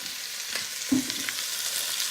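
Food frying in oil in a pan for baked ziti, with chopped celery in the mix, a steady close sizzle with a brief stir or clack partway through.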